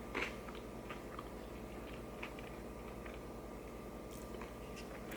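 Crunchy chicken and tater snack being chewed close to the mic, soft repeated crunches and bites spread across a few seconds over a quiet steady hum.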